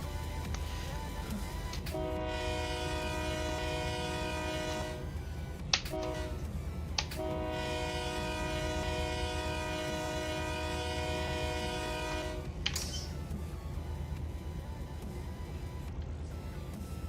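Train horn in the Run8 train simulator game, sounding in long sustained blasts with brief gaps, over a steady low rumble of the rail engine and track noise.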